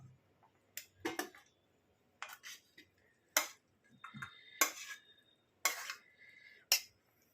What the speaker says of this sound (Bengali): এইভাবে আমি এই বাটিতে সার্ভ করে দেবো।